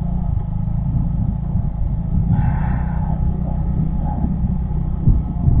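A car engine drones low and heavy like a truck while driving on a sandy road, with a steady rumble, a slight rise in strain partway through and faint road noise.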